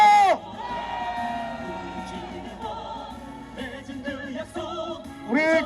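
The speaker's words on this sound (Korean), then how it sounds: "우리 다 같이 함성 한번 들어보겠습니다" A crowd at a Honam-region street vendors' rally shouts and cheers together, a sustained mass of raised voices and whoops at moderate distance, with a single voice rising loud at the start and again at the end.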